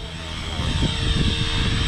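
A 500XT helicopter flies during an operational check flight, its rotor and engine giving a steady droning whir with a rhythmic low pulse, close and fairly loud.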